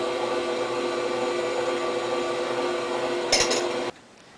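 An electric mixer beating cheesecake batter with heavy whipping cream and vanilla in a bowl, a steady motor whir with a brief clink of the beaters against the bowl just before it switches off.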